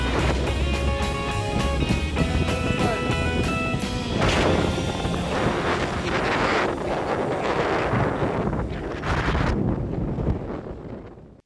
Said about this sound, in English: Damn, this wind is unbearable, the sand is throwing up a mist.